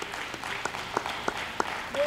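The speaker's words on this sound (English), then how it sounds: "Could you just give the Lord a good clap offering?" Worshippers at a church service clap together in applause, a spread of steady, fairly quiet hand claps with a few sharper strikes standing out, heard from across the room.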